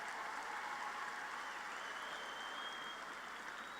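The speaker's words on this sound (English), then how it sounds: "a round of applause for the master's graduates from the College of Arts and Sciences" Steady applause from a large crowd at a university commencement ceremony, continuous and evenly textured, heard from a distance in a big hall.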